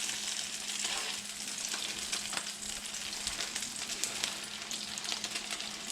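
Patties of canned mackerel sizzle in a hot pan as they char, a constant close crackle and hiss with no voices over it.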